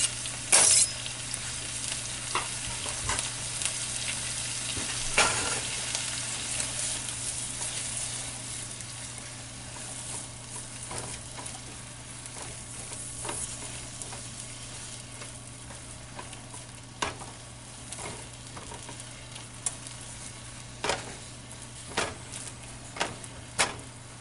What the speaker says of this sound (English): I'll be just adding my onions and garlic that I just chopped. I'm gonna let it saute for a little bit.